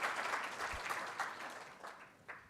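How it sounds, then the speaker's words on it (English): Students applauding at a university public lecture by Norway's foreign minister, a burst of moderately distant clapping that gradually tapers off, no speech. "Give yourselves a round of applause, student."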